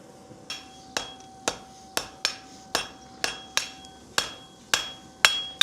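Sharp metallic hammer blows strike a center punch on metal during a crack repair, about twelve evenly spaced impacts at a steady rhythm, each ringing briefly, close and fairly loud, with no talking.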